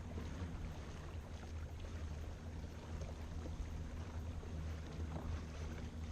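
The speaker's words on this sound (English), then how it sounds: "but just the trolling motors." A boat runs on its trolling motors alone, drifting with the current at about 4.5 miles an hour, giving a steady low hum under a wash of water and wind noise throughout.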